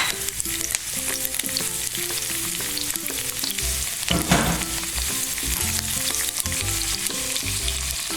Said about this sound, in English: So I'm gonna put my garlic and the onion in. Oh yeah, it's hot.